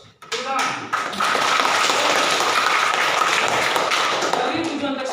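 A classroom of students applauding during an Indonesian lesson: after a couple of sharp early claps and thumps, dense clapping swells in and stays loud and close, fading slightly at the end.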